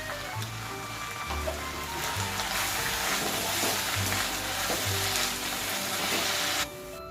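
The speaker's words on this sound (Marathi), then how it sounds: "निथळलेली मेथी टाकायची आहे यामध्ये चवीपुरतं मीठ टाकून सॉफ्ट होऊस तर आपल्याला परतायचे आहे" Drained fenugreek leaves sizzle steadily in a pan with salt, with frequent scraping and stirring thumps, a continuous close frying hiss that cuts off abruptly near the end.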